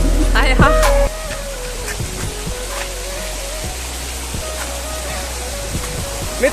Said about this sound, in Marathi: जबरदस्त हा वॉटरफॉल आहे मित्रांनो